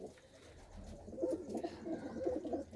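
Pigeons in a dark wooden nest box with a young squab coo in a low, continuous burbling murmur, close but quiet, with no voices over it.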